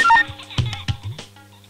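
A telephone is dialed as a short run of electronic keypad tones, followed by a few clipped electronic beeps and sounds.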